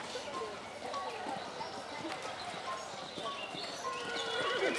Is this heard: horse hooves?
yes